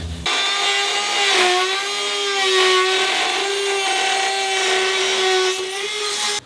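A power tool cuts an aluminum fender liner on a Toyota 4Runner with a loud, continuous, close-up whine. The pitch shifts slightly as the blade bites into the metal.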